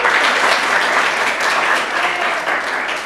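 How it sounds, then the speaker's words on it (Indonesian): A classroom of children claps together in a steady, dense burst of applause lasting about three seconds, loud and close with no pauses and no talking. "Tepuk tangan."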